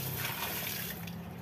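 Fresh water pouring into a goldfish tank during an emergency hand-breeding setup, a steady broadband splashing rush that holds at a constant level throughout, close and alone with no talk.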